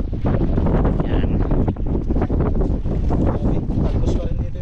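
Heavy wind batters the microphone in continuous rumbling gusts, loud and close, with a brief dip midway.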